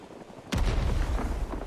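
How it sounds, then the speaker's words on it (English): A grenade bursts in the Rising Storm 2: Vietnam video game, a sudden loud boom after a quiet half-second, followed by a sustained low rumble and debris noise that stays heavy to the end. "I'm throwing nades now this way."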